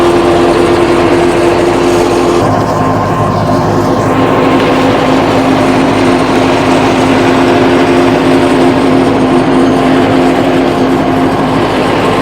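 A tractor-driven Birbal multicrop super seeder working a field, giving a loud, continuous engine drone with a steady mechanical whine and rattling implement noise throughout.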